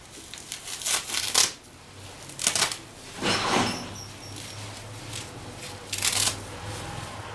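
A sack of beans being cut open: crackling, rustling bursts of material tearing and crinkling, several close uneven strokes spread across the moment, without speech.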